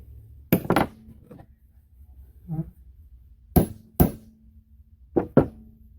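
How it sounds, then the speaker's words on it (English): Sharp metallic strikes from a big hammer driving a STIHL axe handle onto a maul head ring out close by, single and paired blows spaced apart with ringing tails, quiet gaps between. "We got the big hammer out for this one"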